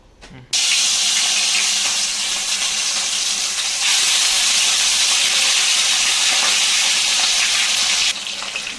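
Fish sizzles in hot oil with a loud, dense, continuous hiss that starts abruptly and holds steady for several seconds before easing slightly at the end.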